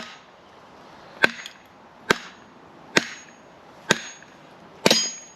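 Five sharp strikes of a small standard hammer splitting a small piece of firewood, roughly evenly spaced a second apart, each a loud crack with a brief ringing tail over a quiet background.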